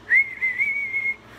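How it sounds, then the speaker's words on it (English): A person whistles a short, wavering little tune alone, one clear sustained melody lasting just over a second. "Dopey whistled"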